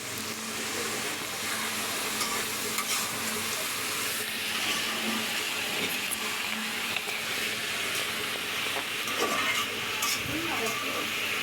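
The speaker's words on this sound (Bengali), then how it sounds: "করলা ভাজি করতেছি।" Bitter gourd frying in a pan, a continuous broadband sizzle with occasional stirring scrapes and faint background voices from a busy home kitchen.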